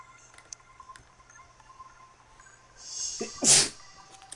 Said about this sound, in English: Bad sneezy sneeze.